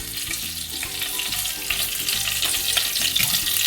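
Cloves, cardamom and a small piece of cinnamon fry in hot oil for fish biryani, making a close, continuous crackling sizzle with no voices.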